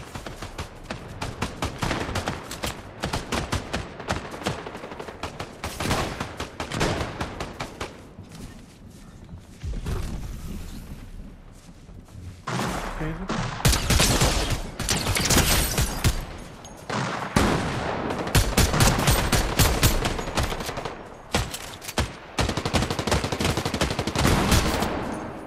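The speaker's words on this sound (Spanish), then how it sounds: "Alguien me disparó por la espalda" Rapid gunfire fills a Fortnite match, dense bursts of automatic shots and single cracks repeating almost continuously with brief lulls, loud and close throughout.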